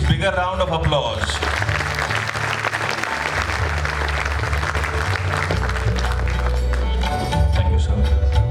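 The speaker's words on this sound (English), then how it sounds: "Please, bigger round of applause." Sustained audience applause fills a website launch event, dense steady clapping from start to finish, loud and close, with a low musical hum running underneath.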